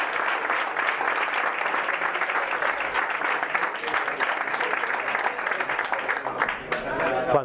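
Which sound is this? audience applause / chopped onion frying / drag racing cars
audience applause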